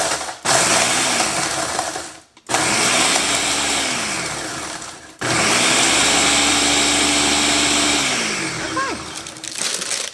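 A kitchen blender or food processor pulses ingredients for orange balls and potato candy, with several loud whirring bursts of a few seconds each separated by brief stops, close up.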